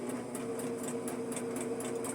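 A sewing machine runs steadily, stitching quilt block pieces along the outside edge in a fast, even, rhythmic whir with regular needle clicks, close and continuous.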